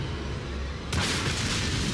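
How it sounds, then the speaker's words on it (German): A sudden explosive blast of bazooka and rocket launcher fire hits at about the one-second mark in Resident Evil 4, followed by a sustained roaring rumble of the detonation. "Ein Bazooka-Schuss und ein Raketenwerfer-Schuss."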